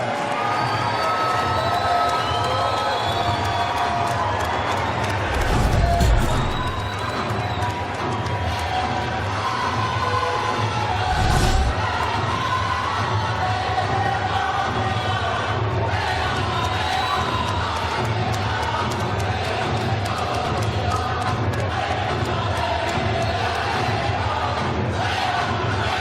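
A hometown Chicago crowd at a Glory 50 kickboxing event cheers and shouts for a local fighter, a sustained roar of voices with louder whoops and surges around the middle of the stretch.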